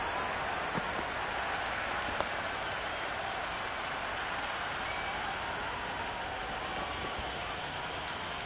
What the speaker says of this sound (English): the crowd is in great voice